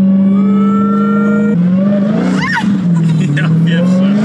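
An 808 HP Dodge Challenger Hellcat Redeye accelerates at half throttle, its loud engine note rising steadily with a brief tire squeal midway. Occupants talk over the engine inside the car.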